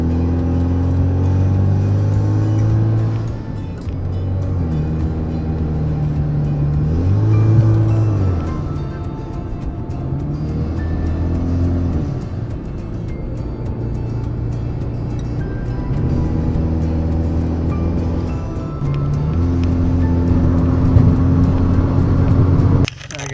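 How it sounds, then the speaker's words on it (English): A sporty car rides on new tires, heard from inside as a loud, continuous engine drone with repeated rises and falls in pitch as it shifts and accelerates, over a steady road rumble. "We're just driving around at this point, enjoying the new tires on my car."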